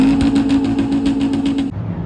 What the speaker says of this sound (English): Something's going on to the point where they're revving like crazy.